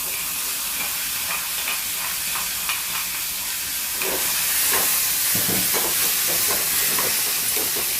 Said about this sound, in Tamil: கொஞ்சமாக வதக்கினா போதும்.